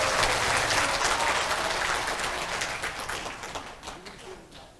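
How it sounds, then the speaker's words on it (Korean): An audience applauds veterans at a rally in a large National Assembly conference hall, a dense, loud wash of clapping that slowly thins and fades toward the end. "여러분 뜨거운 박수를 보내주시기 바랍니다."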